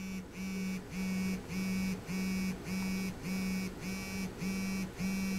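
A phone buzzes in a steady series of short vibrations, about ten evenly spaced pulses, faint and close with a low hum.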